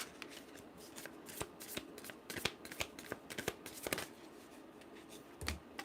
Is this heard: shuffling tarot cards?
yes